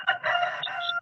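A big rooster crows one drawn-out cock-a-doodle-doo, loud and close, with a clear bright call holding steady for about a second.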